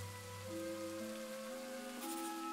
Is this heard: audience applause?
no